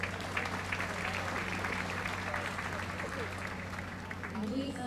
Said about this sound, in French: Applaudissons mon Seigneur.